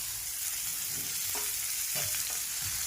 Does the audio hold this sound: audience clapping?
no